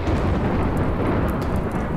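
Thunder rolls from lightning in a RimWorld storm, a dense, loud low rumble with rain-like hiss sustained across the whole moment, no voices.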